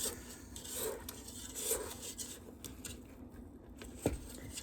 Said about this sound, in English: Let me try scraping it again. Make sure it's all off the bottom.